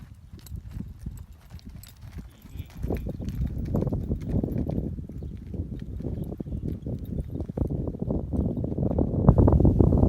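Horse hooves thud steadily on soft arena ground during a barrel racing lesson, growing louder as the animal moves closer, with no talking.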